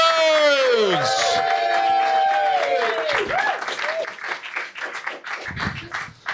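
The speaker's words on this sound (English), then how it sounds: "Keep the applause going, ladies and gentlemen." Comedy club audience applauding and cheering as a comedian is brought on stage, loud dense clapping with whoops, a shouted voice and music swelling over it at first, then the clapping thins and becomes more scattered.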